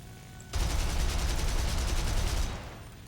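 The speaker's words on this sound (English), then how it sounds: "Oh, I missed all those shots." Rapid gunfire from the cannons and machine guns of an FW-190 A-4 fighter in War Thunder, a dense, loud burst starting abruptly and pounding steadily for about two seconds before cutting off.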